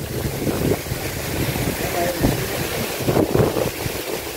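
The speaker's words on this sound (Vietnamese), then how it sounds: "Gió hù hù luôn." Strong wind blasts across open water beside a small boat, buffeting the microphone in gusty bursts, with a voice faintly heard under the roar.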